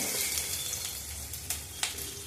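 Onion and green chili frying with cumin, mustard seed, moong dal and potato in a pan, a soft continuous sizzle with a couple of faint clinks.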